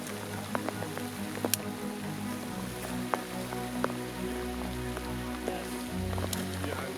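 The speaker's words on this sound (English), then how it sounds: "The rain pours down once more" Steady rain pouring down outdoors in Alaska during a moose hunt, a constant wash of drops on surfaces with occasional sharper drips and low rumbling in the background.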